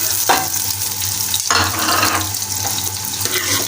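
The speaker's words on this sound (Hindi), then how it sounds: "ये प्याज हमने डाल दी। अब इसको ब्राउन करने के लिए इसको चलाएंगे" Onions frying in a pan for aloo methi, stirred to brown them: a steady close sizzle with scraping stirs and a sharp clatter near the middle, no voices.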